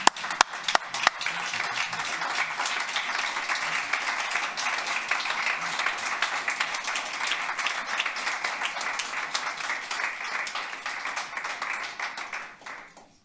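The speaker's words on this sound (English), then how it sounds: "Please stand and give a rusty round of applause for Roy Williams." A standing audience applauds an award recipient at a Bob Marley Day awards ceremony in Toronto, dense sustained clapping filling the room for over ten seconds before fading out.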